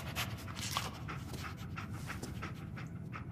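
Dogmeat, the dog companion in Fallout 4, pants steadily and sniffs close by, a soft continuous breathy rhythm over a low background hum.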